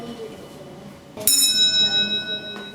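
A railway signal box bell rings once with a sharp metallic strike that lingers in a long, ringing decay, faint voices murmuring in the room beneath it.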